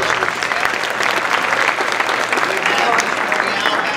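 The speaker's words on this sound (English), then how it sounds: "Let's give our nice round of applause to our middle school staff." Audience at a middle school talent show applauds the school staff, a dense, steady clapping that fills the room for the full stretch, loud and close, with some voices mixed in.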